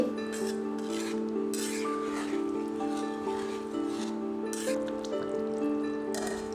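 Potato curry (alur dom) being stirred in a pan, repeated scraping and rubbing strokes of a spoon against metal in a steady rhythm, close and moderately loud under a constant background hum.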